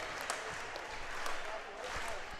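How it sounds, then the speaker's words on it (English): Crowd applause and cheering fill a high school volleyball gym at set point in a Venice versus Cardinal Mooney match, a steady dense wash of clapping and crowd noise throughout. "Place is standing. And you can see the applause."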